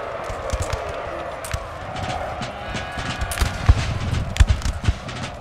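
Artillery and musket fire in the Napoleon: Total War battle game, with scattered gunshot cracks and dull booms over a continuous battlefield din that swells into heavier, closer thuds toward the end.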